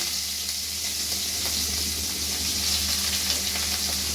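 Onions frying with cumin in hot oil give a dense, steady, loud sizzle that stays close and unbroken throughout, with faint bubbling crackles.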